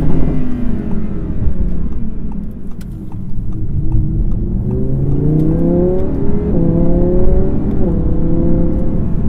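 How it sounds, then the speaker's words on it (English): A 2017 Audi R8 V10 Plus in dynamic mode downshifts, its V10 engine rising and falling in pitch through several stepped gear changes, loud and close with a steady rumble underneath. "But still in dynamic mode. You'll hear it downshift."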